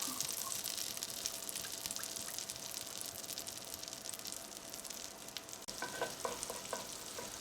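Butter melts in a pan with a steady, soft sizzle and faint crackle, a constant frying hiss throughout with a few small spatters near the end; no one speaks.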